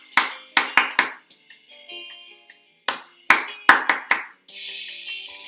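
A music teacher claps a short rhythm with bare hands, crisp close claps in tight groups of three and four separated by pauses, with faint room resonance between them.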